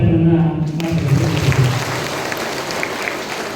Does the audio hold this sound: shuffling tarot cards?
no